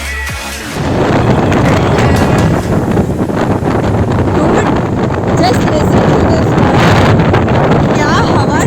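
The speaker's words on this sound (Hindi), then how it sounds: "क्या हवा चल रही है वाटर पे" Strong wind gusting over water at the Mandalpatti Peak viewpoint in Coorg, a loud, steady rush buffeting the microphone for nearly the whole stretch after a brief quieter start.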